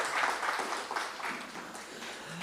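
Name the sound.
audience applause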